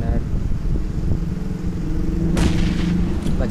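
A grenade goes off in the PUBG Mobile game, a loud broadband burst cutting through constant game noise and rumble, with the blast tail lingering about a second.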